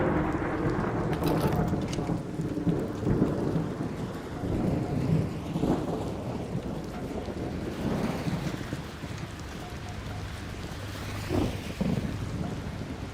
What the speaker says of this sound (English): They love the sound of this rain.